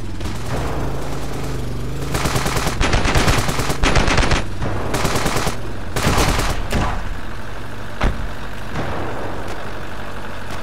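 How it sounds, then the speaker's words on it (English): Gunfire in the video game Ravenfield, from a sniper rifle and other weapons: loud bursts of repeated shots crowd the middle of the clip, and a single sharp report cracks near the end over a constant rumbling background. "I'm gonna try a sniper rifle"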